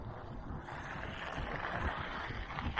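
Wind roaring across the microphone on a mountain bike ride in a park, heading straight into the wind: a continuous, loud, rumbling buffet that drowns out other sound, with no speech.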